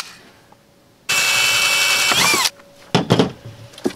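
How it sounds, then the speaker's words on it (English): A power drill bores into a fence energizer enclosure in a loud, steady burst of about a second and a half, followed by a few short trigger pulses. "drill out the top of it the same way you did the bottom"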